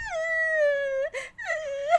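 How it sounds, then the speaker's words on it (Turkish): A high, drawn-out wailing cry from a cartoon character at a birthday, loud and sustained, breaking briefly before rising into another sobbing wail. "Ağlama sesi de ne böyle?"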